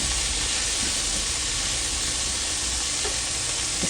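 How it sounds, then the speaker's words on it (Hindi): Onions brown in oil for a mutton paye masala, giving a loud, steady, close sizzling hiss that runs evenly without pause. "ये प्याज मैं ब्राउन कर रही हूँ"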